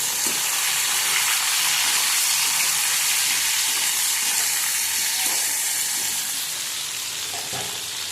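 Food frying in a pan with green chillies is stirred, giving a loud, steady sizzle and hiss with scraping stirs running throughout, no voices, easing slightly toward the end.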